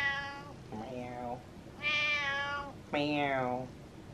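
Several cat meows, three to four long drawn-out calls in a row, fairly close and clear with quiet pauses between them.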